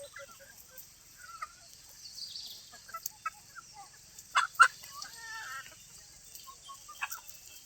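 Chickens standing in water from a running motor-fed spray give scattered clucks and short calls, a few louder squawks near the middle, against a faint steady hiss of running water.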